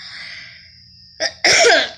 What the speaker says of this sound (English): I still have my nasty cough